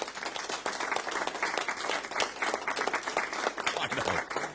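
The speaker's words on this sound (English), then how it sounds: "let's just give you a round of applause for all the people that are here" Dense applause sound effect played on a live radio sofa show, many hands clapping in a sustained, lively burst that swells slightly and continues throughout, with a voice briefly audible beneath it.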